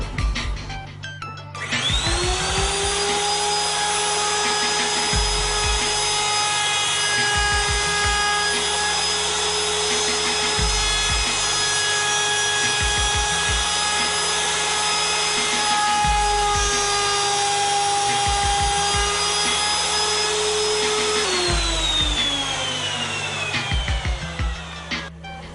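A router cutting dovetails in a wooden board held in a General EZ Pro 860 dovetail jig, a loud sustained whine running steadily for about twenty seconds. The bit spins up at the start and winds down at the end, with rhythmic low thumps underneath.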